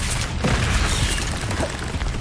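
A fire spell cast in Hogwarts Legacy, a dense roaring whoosh with burst-like crackle lasting about two seconds, loud and close over game ambience.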